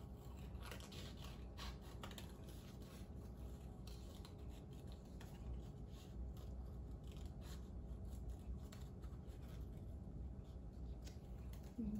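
Steady scissors cutting out a paper turkey wattle shape during a fine motor craft lesson, a continuous quiet snipping and rubbing texture that stays even and close throughout with no talk.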